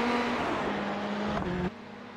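Mazda MX-5 engine in a racing game, a steady, loud, buzzing drone that holds its pitch, then drops sharply near the end as if shifting gear or lifting off.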